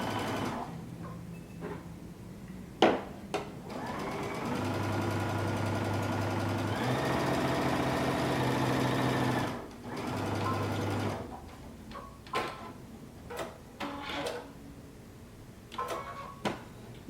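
Sewing machine stitching the side back pieces of a coat together with a 5/8-inch seam allowance, a quiet steady whir in a few runs separated by pauses and light handling noises.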